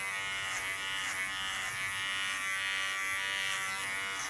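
An electric hair clipper buzzes steadily and close up as it is run over the back of the head during an ultra-short haircut, a continuous bright hum with slight wavering and no talk.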